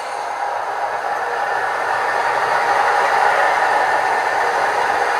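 Two model train locomotives on an NCE DCC system run along the track, making a steady, loud, continuous rolling hum and rumble that holds even throughout, close by and without talking.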